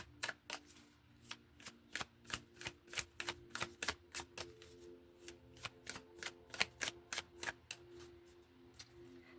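Tarot cards are shuffled in a quiet room, giving a rapid series of crisp, close snaps and riffles in an uneven rhythm.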